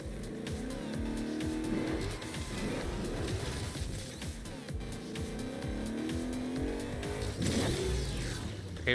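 A car driving in the Agents of Mayhem video game, its engine revving and droning steadily with rising and falling pitch, brief tire squeals, and a louder surge near the end.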